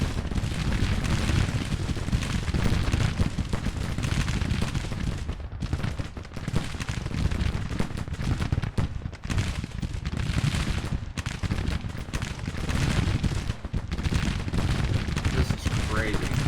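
Civil War battle in the strategy game Grand Tactician, with dense continuous musket volleys and booming artillery fire, loud and relentless, while someone talks over the din.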